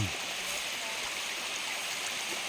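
Huai To waterfall stream flowing steadily, a dense, even rush of water that stays constant and fairly near throughout, with no voices.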